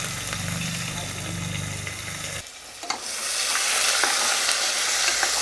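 Chopped onions hit hot oil with spices, curry leaves and green chillies for a Tamil chicken kurma, giving a steady close sizzle with a brief stirring clatter partway through, while someone speaks over it.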